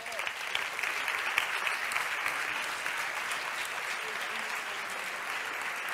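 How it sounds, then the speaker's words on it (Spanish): Steady, dense applause from a large audience at a Spanish women's national football team event as players and coach Jorge Vilda are announced, sustained and even throughout with faint crowd voices beneath. "cada vez que nombraban a una jugadora, a un jugador, todos aplaudían"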